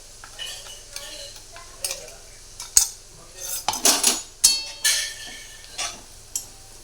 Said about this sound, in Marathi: त्यात हे शेंगदाण्याचा कूट आणि मिरच्या बारीक केलेलं ना ते टाकायचं आणि चांगलं परतायचं तेल